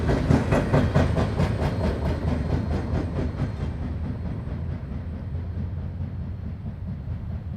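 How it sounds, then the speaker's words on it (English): A CSX freight train, number 507, rolls past nearby with a rhythmic clickety-clack of wheels over rail joints that gradually eases into a steady rumble as the cars keep passing. "a 507 is also barreling down on our location"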